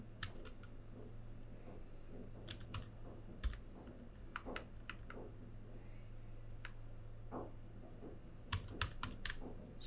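Someone types on a computer keyboard, a quiet run of scattered key clicks in irregular bursts against a soft background hum.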